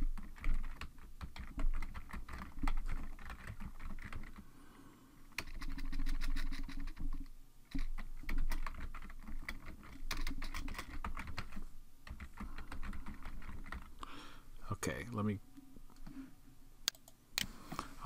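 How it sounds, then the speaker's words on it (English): Computer keyboard typing while building a web page: bursts of quick, close key clicks in irregular runs with short pauses, plus a few sharper clicks near the end. "let's type something like"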